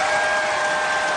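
An arena crowd cheers and applauds at a Pac-12 basketball game, Oregon State against Utah, a dense, loud wash of clapping and roaring filling the whole brief moment.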